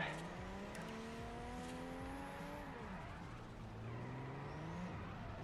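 A Toyota Supra in the Xbox 360 racing game Forza Horizon drives with its engine droning and shifting pitch through gear changes, a continuous steady motor sound with no speech.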